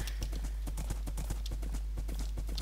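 Rapid, steady clip-clop of donkey hooves in Minecraft, a quick regular run of hoof clicks close and loud over a constant low hum, with no talk.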